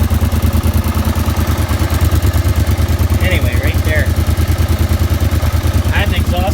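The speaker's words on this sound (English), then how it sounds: "I had an exhaust leak." A quad (ATV) engine with an exhaust leak runs steadily, a rapid even chuffing pulse with metallic clatter that stays loud throughout, while someone talks over it.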